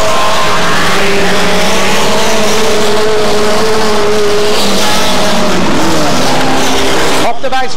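Hot-rod race cars roaring down the back straight at a 1996 race at the Pike, loud sustained engine howl from several cars with a public-address announcer talking over it, cutting off abruptly near the end.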